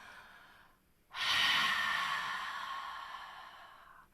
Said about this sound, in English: So we're going to exhale on a ha.